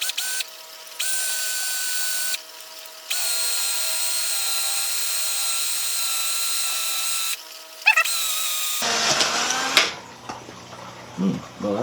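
A power drill whines in long continuous bursts with short pauses while drilling a metal piece from a Hamilton Beach deep fryer, then gives way to clattering handling noises near the end.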